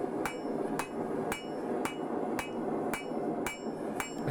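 A hammer strikes a welded, folded steel axe being forged, eight sharp ringing metallic blows in a steady, even rhythm, close and alone.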